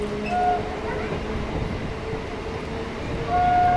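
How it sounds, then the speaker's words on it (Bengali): A Krishnanagar–Amghata local train gathers speed, its steady rolling rumble and rail noise continuous and close, with a brief whistle-like tone near the start and again at the end. "ট্রেনের গতিবেগ আস্তে আস্তে বাড়ছে।"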